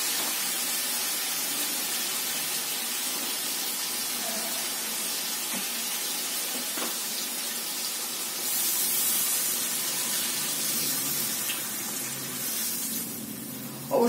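Water poured into a pan of Bengali sour-spicy fish curry, a steady hissing rush that swells briefly toward the end before stopping, heard alone at moderate volume.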